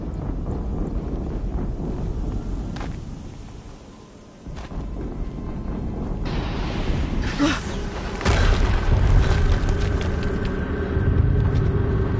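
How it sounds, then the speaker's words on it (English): An explosion in a tank battle, heard as a heavy low boom and rumble that swells midway and lingers under steady wind-like noise, with no talking. "Another explosion."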